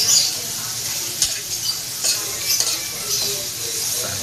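Homemade sisig with onions sizzles and crackles steadily in a hot pan, with occasional stirring scrapes over the continuous frying hiss.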